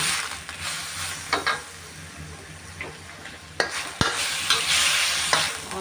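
Sliced pork stir-frying in a pan with chili, a steady loud sizzle broken by several sharp scrapes and clacks of a spatula stirring against the metal.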